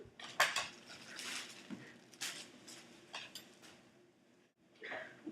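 A knife saws a baguette in half, its crisp crust giving bursts of crackly crunching and light clatter against a board, close and fairly quiet, with no talking.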